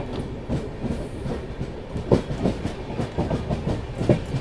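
A train passes through Datia railway station, steady rumble with rhythmic clickety-clack of wheels over rail joints, close and loud, no talking.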